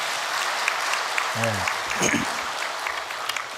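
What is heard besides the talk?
audience applause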